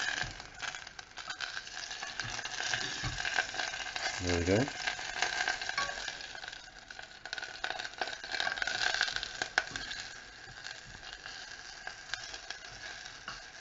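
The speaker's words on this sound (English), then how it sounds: "Tomatoes are still frying." Quiet, steady sizzling of tomatoes frying in a pan, with occasional scraping stirs and a brief spoken remark.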